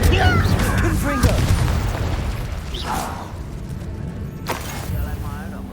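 Confringo blasting spell in Hogwarts Legacy, short booming bursts and magical whooshes under a character voice.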